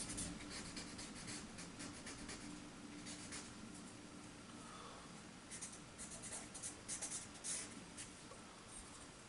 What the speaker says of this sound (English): I'm just using a blending stick and a charcoal pencil and a charcoal stick